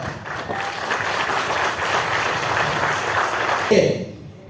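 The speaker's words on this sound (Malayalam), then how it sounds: "എന്നിട്ട് കൈയടിച്ച് അപ്പം തന്നെ ഇരുന്നോ" Steady applause from an audience at a direct-selling business meeting rolls on for several seconds, dense and even, then cuts off abruptly near the end as a voice briefly comes in.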